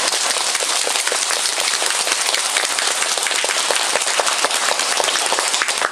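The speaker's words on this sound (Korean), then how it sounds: "이분들께 제일 큰 박수 드립니다" A temple congregation at a Korean Buddhist new-year prayer closing ceremony applauds the monks, sending up a loud, continuous wash of clapping that hisses like heavy rain and stays even throughout.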